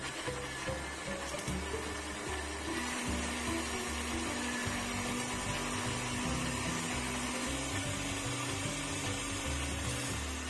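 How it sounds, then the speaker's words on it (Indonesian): Blender grinding toasted candlenuts, ginger, turmeric and cooking oil into a spice paste, a steady loud motor whir running throughout with slight shifts in pitch as the mixture churns. "Sekarang masukkan kemiri yang sudah disangrai ke dalam blender, masukkan jahe dan juga kunyit, tambahkan minyak goreng"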